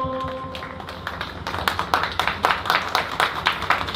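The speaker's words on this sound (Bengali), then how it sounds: "সবাই একটু জোরে হাততালি দিন" An audience claps for children after a dance drama, starting as scattered taps and building into loud, irregular applause that continues to the end.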